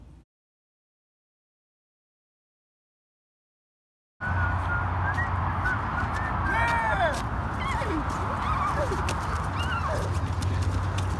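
A horse gallops in flight, hooves clip-clopping at a quick pace under a dense wash of noise and voices, starting abruptly after a few seconds of silence.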